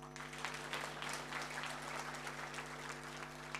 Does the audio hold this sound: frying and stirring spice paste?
no